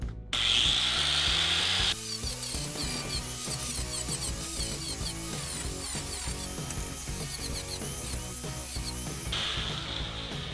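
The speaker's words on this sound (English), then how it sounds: "Sanding time." Car interior being sanded before paint, a steady, dense abrasive scraping and rubbing that runs continuously at close range, loud and unbroken, with a sharper hiss at the start.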